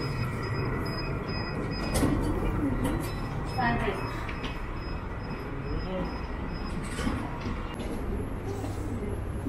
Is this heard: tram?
yes